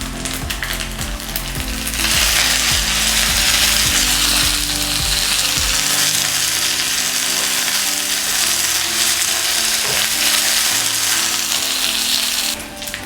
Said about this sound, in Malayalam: ഇനി നമുക്കിതിലേക്ക് കുറച്ച് കറിവേപ്പിലൂടെ ആഡ് ചെയ്ത് കൊടുക്കാം.